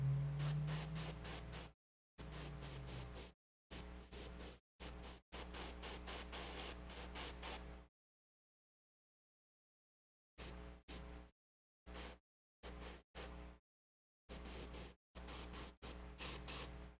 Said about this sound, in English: so we want to spray from this direct angle on